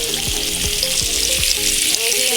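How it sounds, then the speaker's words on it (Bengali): Eggs fry with potatoes and panch phoron spices in a pan, giving a loud, steady sizzle with a few quick utensil scrapes running through it. "সব কিছু দিয়ে আমি এই ডিমটা রান্না করতেছি"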